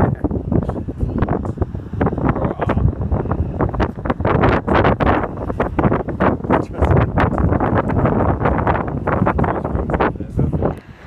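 Strong, gusty wind buffets the microphone high on the grounds of Nottingham Castle, about 300 feet above sea level, roaring continuously in uneven bursts with no clear talk.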